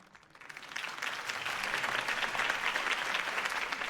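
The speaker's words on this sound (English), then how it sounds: "If only Mr. Wayne, my campaign's largest backer, could have heard that applause" Crowd applause after a campaign speech in the Batman Telltale video game, building quickly from a quiet start into a steady, dense roar of clapping from a large audience.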